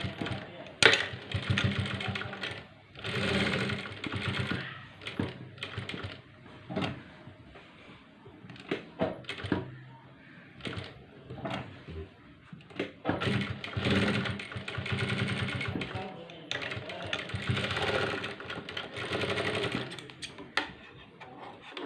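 A sewing machine stitching a homemade cloth face mask, running in bursts of rapid mechanical chatter separated by short pauses and handling clicks.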